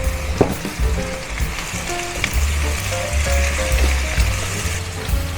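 Tomatoes go into sizzling ginger, garlic and onion, and a steady, loud frying hiss carries on up close while a utensil stirs and scrapes the pan.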